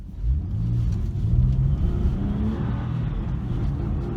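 A Porsche GT3 on H&R lowering springs cruises over smooth tarmac, a loud, steady engine drone with mild revving and road roar heard from inside the car, no speech.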